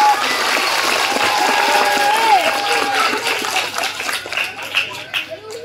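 A crowd at a women's Islamic study gathering claps and cheers, a loud rolling wash of hands with voices and talk mixed in over it, tapering toward a few scattered claps at the end.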